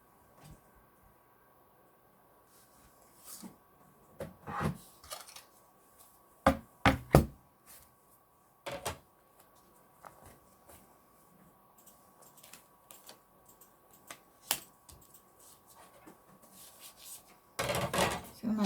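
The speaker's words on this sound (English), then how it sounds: "Okay, I'm going to die cut that." A die cutting machine running foiled paper through a die, heard as a string of loud knocking thumps and clunks of varying strength, with quiet gaps between them and no talk.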